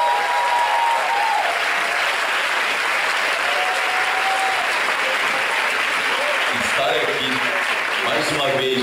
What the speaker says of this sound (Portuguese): primeiro, uma salva de palmas para a Bahia e para Porto Seguro